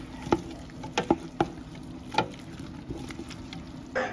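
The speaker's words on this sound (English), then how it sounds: "we're gonna stir that for about 5 minutes" A spoon stirring garlic into beef goulash in a pot, several distinct clinks and scrapes against the pot over a soft simmering sizzle, close and moderately loud.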